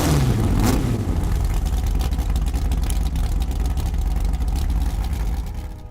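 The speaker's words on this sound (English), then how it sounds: "The Ford 427 FE V8 is an iconic American muscle car engine" Ford 427 FE V8 muscle car engine revving loud and close, one rising sweep at the start settling into a rough, sustained roar that fades slightly at the end.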